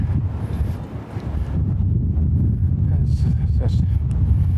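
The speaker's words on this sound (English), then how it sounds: "It's really windy today." Strong wind on a Toronto street in the Yorkville area roars against the microphone in a constant low buffeting rumble, with a voice faintly present beneath it.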